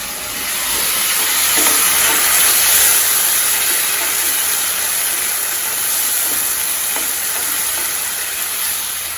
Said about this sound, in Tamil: இப்போ தீ கொஞ்சம் குறைச்சி வச்சுட்டு இந்த மிளகாயோட பச்சை வாசனை போகிற அளவுக்கு வதக்கணும்